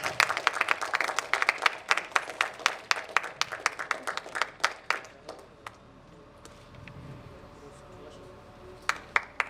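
An audience at an Urdu poetry mushaira claps loudly in a dense burst, the applause thinning into scattered claps before a few final ones at the end.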